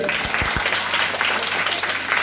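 Loud, steady applause from a crowd at a school children's cabinet election in 2022, greeting the winning student, Kumari Sita; the clapping rolls on without a break, and a few heavier claps stand out near the start.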